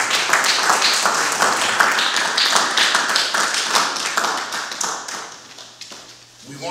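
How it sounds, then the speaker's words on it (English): A community audience in Rochester claps to welcome a speaker, with steady dense applause that fades out toward the end. "can we give him a hand clap of welcome?"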